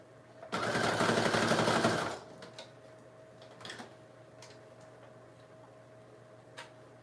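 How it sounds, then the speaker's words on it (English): A sewing machine runs in one loud, steady burst of about a second and a half, stitching a vintage embellishment, then stops, leaving a low hum and a few faint clicks. "I'm just gonna sew it really quick"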